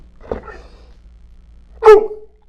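Service dog giving a couple of barks indoors: a soft short bark near the start, then a louder, sharper bark about two seconds later, close by with quiet between.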